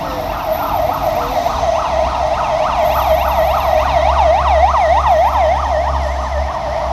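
A wailing ambulance siren in Argentina rises and falls in rapid repeated cycles, loud and fairly close, over a low background hum of traffic.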